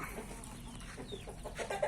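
Chickens clucking in a rural Thai village yard with many birds around, soft, somewhat distant clucks scattered over quiet background noise.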